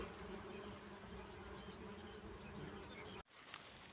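Dense, steady buzzing of many honeybees swarming around a very large wild nest outdoors, close and continuous, cut briefly by a sharp handling bump near the end.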